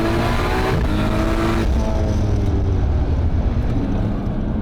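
An 1100hp Nissan R32 GT-R with a big turbo pulls hard in first gear from about 4,000 RPM, its loud engine roar rising steadily and filling the whole cabin.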